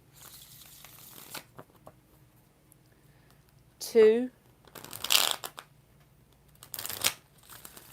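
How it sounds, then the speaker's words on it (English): Tarot cards are shuffled in a few short, crisp riffling bursts separated by quiet pauses, with a brief voice in between. "4 shuffles"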